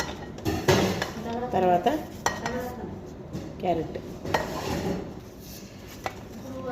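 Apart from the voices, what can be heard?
cutting carrot into thin long strips by hand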